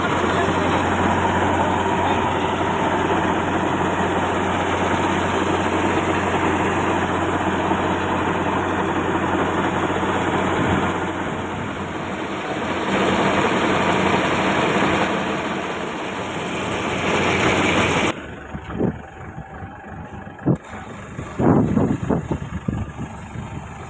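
A rice harvesting cutter machine's engine runs with a loud, steady drone for most of the span before dropping away, leaving clattering bumps and handling noises near the end.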